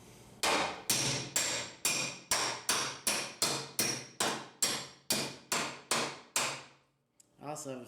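Steel hammer strikes against a dolly on the body panel of a 1971 Chevy Blazer, about fourteen sharp ringing metallic taps in a steady rhythm, close and loud, followed by a brief pause and softer handling.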